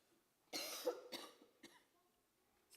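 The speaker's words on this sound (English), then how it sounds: "I'm going to cough first." Three or four quick coughs in a row, fairly close, the first loudest and the rest trailing off, with quiet around them.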